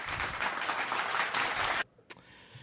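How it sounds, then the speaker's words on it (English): A live show audience gives a short round of applause, a dense patter of clapping that cuts off abruptly, leaving near silence and a faint thump. "Short applause. I thought it would be much bigger."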